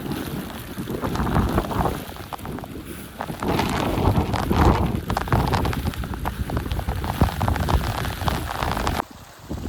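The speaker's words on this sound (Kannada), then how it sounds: "ನೋಡ್ರಿ ಮಳೆ ಇನ್ನೂ ಜಗ್ಗು ಹೊಂಟದ." Steady rain pours through the forest on the Tadiandamol trek in Coorg, a dense, continuous patter with gusts of wind buffeting the microphone, loud and close throughout until it cuts off near the end.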